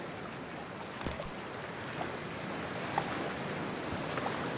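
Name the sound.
toxic freezing water in video game Cyberpunk 2077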